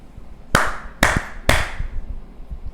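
Three sharp hand claps, evenly spaced about half a second apart, ring out in a classroom during a second-grade math lesson, each one loud and close, followed by quiet room noise.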